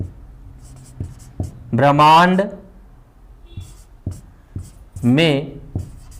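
Chalk or marker writing on a board in a classroom lesson, with short tapping and scraping strokes in bursts while a teacher speaks between them.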